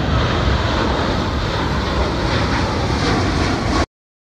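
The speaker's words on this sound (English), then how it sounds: "Surveillance aircraft." Steady, loud drone of a surveillance aircraft engine, a continuous airplane roar held close and unchanging before cutting off abruptly.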